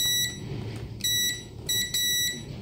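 Short high electronic beeps from a multimeter continuity test on a Philips TV circuit board sound in a few quick clusters, fairly close, over a faint background rumble.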